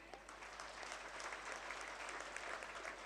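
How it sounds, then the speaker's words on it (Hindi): A large audience applauds steadily at a public address in Jaisalmer, Rajasthan, dense clapping holding at an even level throughout with no talk over it. "ये बेटियों के लिए, बहनों के लिए जोरदार ताली हो जाए"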